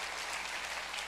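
A congregation gives a short burst of applause during a church sermon, dense close clapping that fills the brief moment without any voice over it.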